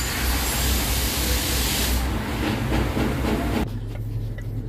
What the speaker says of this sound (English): This is the viscous pan of the Range Rover.